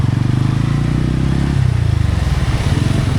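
A KTM motorcycle is ridden on a mountain road to Adi Kailash, its engine thumping loudly and close in a steady rhythm that drops in pitch halfway through, with no voices over it.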